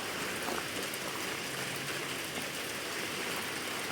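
Steady rain patters and drips onto a covered garden swing close by, a dense continuous hiss with no talking.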